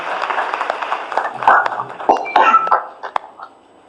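A crowd claps for the inauguration of a laboratory and the launch of a vaccination and golden card distribution campaign in Uttar Pradesh, giving a scattered, uneven patter of applause that thins out toward the end.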